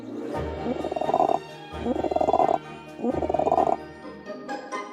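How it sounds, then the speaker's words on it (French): A cartoon choir of frogs croaks in three loud rhythmic bursts, each swelling for about a second with short pauses between, over a musical backdrop. "Je fais répéter la chorale de grenouilles ce matin."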